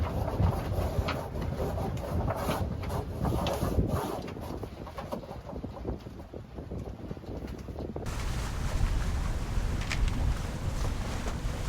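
Gusting wind buffets a sailboat under sail at about eight knots with a reefed jib, rushing and rumbling close to the microphone with uneven surges and a steady whooshing wash throughout.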